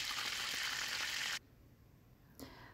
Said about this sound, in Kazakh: Осылай қызыл етіп екі жағын қуырып алатын боламыз.